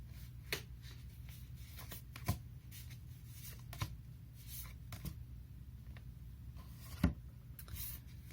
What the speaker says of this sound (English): let me pull some cards from the universe.